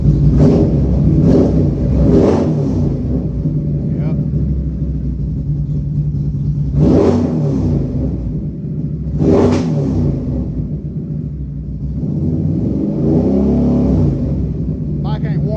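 A 2022 Can-Am Renegade 1000R XMR ATV engine revs loudly and close up in repeated throttle blips, rising and falling over a steady idle rumble, with no talking.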